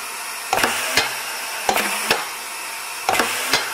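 Hinds Bock P-128 piston pump with an 8-inch stroke and a polymer rotary valve, cycling: a steady hiss of air with paired mechanical clunks repeating about every 1.3 seconds, close and without talking.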